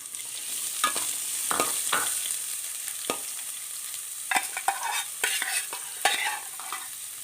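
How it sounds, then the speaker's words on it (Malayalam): Finely chopped shallots stir-fried with ginger in a pan, a constant sizzle broken by repeated scraping and clacking stirring strokes, close and fairly quiet, with no voices. "ഇനി ഒരു മുപ്പത് ചെറിയ ഉള്ളി പൊടിയായി കൊത്തി അരിഞ്ഞത് അതും കൂടി ഇട്ട്"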